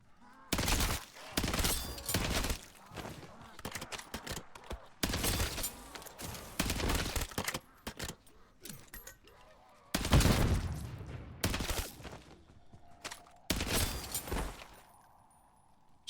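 Video game gunfire arrives in repeated bursts of rapid shots separated by short pauses, moderately loud throughout, with occasional faint voices in between.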